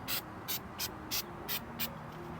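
Goof Off adhesive remover sprayed onto a car surface before sticker removal: six short, crisp aerosol bursts at an even rhythm, close by and fairly quiet over a low background hum.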